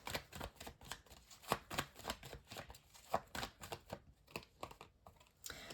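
Tarot cards are shuffled and drawn in a quick run of soft, close riffles and flicks with a faint papery clatter, all quiet and with no speech.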